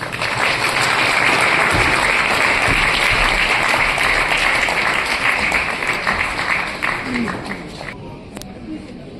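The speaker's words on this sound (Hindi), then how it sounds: "जोरदार तालियां हो जाए।" A large audience at a Rajasthani diaspora gathering in Jaipur breaks into loud, sustained applause with crowd murmur beneath, holding strong for several seconds before tapering off near the end.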